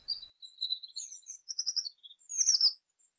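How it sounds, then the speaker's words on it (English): Birds chirp and tweet in a series of bright, quick calls, loud and close against complete silence, with short pauses between phrases. "Upon turning around, he notices several birds circling his sight"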